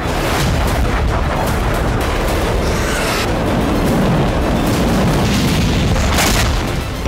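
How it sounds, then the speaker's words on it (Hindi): Russian KH-101 cruise missiles strike a power plant in Dnipro, Ukraine, producing a loud, continuous roar of heavy booms and rumbling blasts with no pause across the whole stretch. "रूस ने यहां अपनी KH-101 मिसाइल का इस्तेमाल किया था"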